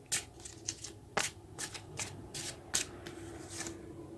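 Tarot cards are shuffled by hand up close, giving a run of quick crisp riffles and soft slaps in an uneven rhythm at moderate loudness, with no talking.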